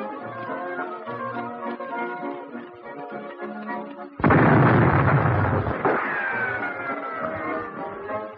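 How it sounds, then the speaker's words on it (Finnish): A loud, close explosion booms during mine clearance work in a minefield, a sudden heavy blast with a rumbling tail, then a smaller second burst, under background music. "Sarjalaukaukset, tarkka tähtäys ja räjähdykset vaihtelevat."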